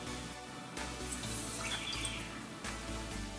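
Half a cup of water poured into a little pan for making lemon juice sugar syrup, a steady splashing stream running close and fairly loud for a few seconds with a brief dip partway through.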